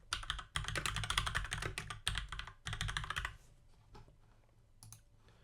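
Rapid clattering keystrokes on a computer keyboard, close and clear in quick bursts, then slowing to a few scattered taps near the end; no voices.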